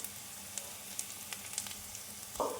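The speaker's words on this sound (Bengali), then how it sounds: "দেখো এখানে কাঁচা লঙ্কা কুচানো দিয়ে দিলাম।" Chopped onion and green chili fry in a pan for a homemade singara filling, a soft, steady sizzle with faint stirring taps and a slightly louder scrape near the end.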